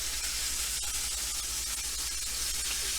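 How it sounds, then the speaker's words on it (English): The fat side of a tomahawk beef ribeye steak sears with a steady, even sizzle and crackle that holds close and constant throughout, with no voices. "Sear the fat side."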